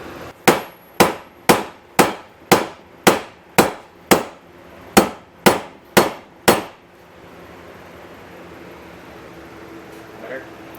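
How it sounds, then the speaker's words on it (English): Eleven heavy sledgehammer blows ring out on a go-kart's bent metal frame in a steady rhythm, each a sharp loud clang, followed by a few seconds of quiet room noise. "I'm gonna use my sledge and try to walk it back even a little more."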